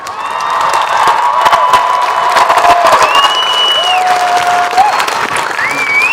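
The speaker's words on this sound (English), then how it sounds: "Let's give them a big round of applause." A large crowd at a high school graduation ceremony applauds loudly and steadily, with cheers and whoops rising above the clapping throughout.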